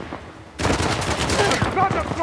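Gunfire in the action game Uncharted: The Lost Legacy, a sudden loud burst of rapid shots that keeps going as a dense volley.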